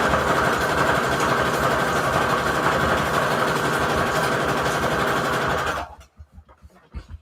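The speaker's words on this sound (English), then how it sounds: "sewing machine is in a good mood" Sewing machine stitching through a hexagon patchwork junk journal signature, a steady, loud mechanical whir running continuously for several seconds before stopping abruptly, leaving only faint clicks and handling noises.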